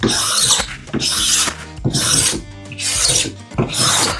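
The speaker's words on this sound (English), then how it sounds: "Easy thing to do is grab it here, run it down there, scrape the piece off." Stanley 12 1/2 card scraper shaving a wooden board, with five loud rasping strokes in a steady back-and-forth rhythm, each stroke about half a second long with short pauses between them, close by and heard alone.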